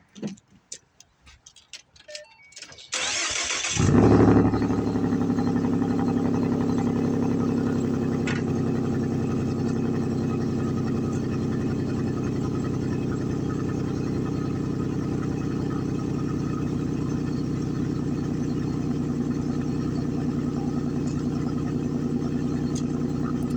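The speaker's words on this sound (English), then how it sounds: "So let's get to this cold start." A Ford Mustang with a 3.7 V6, H pipe, muffler delete, cold air intake and tune cold-starts after a few clicks, then settles into a loud, steady, rumbling idle that continues throughout.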